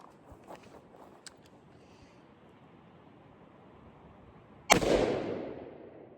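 A single sharp .22 rifle shot cracks out in the woods near an abandoned cabin, followed by a long decaying echo through the trees, after several seconds of quiet outdoor ambience with faint rustles.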